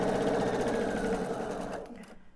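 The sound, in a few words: sewing machine piecing a quilt block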